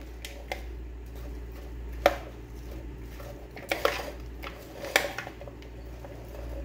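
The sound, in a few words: mixing fruit chaat ingredients in a bowl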